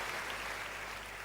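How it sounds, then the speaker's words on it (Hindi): Applause from an audience at a Hindi kavi sammelan poetry recital, people clapping with both hands raised; a steady, dense wash of claps that runs through the whole moment without a break. "मैं चाहता हूं ईशान के लिए एक बार दोनों हाथ गगन की ओर उठा करके तालियां बजा दीजिए"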